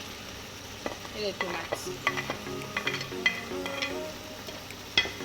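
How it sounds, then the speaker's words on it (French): Potatoes, peppers and tomatoes sizzle steadily in hot oil while a utensil stirs and scrapes the pan in irregular clacks; a voice briefly speaks over it. "Et je vais les griller dans l'huile."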